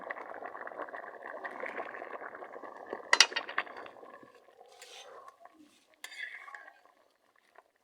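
Okra gets tipped into simmering dal in a pot, a soft bubbling and sizzle followed by a sharp metal clink and scraping stirs with a spoon, fairly quiet and close.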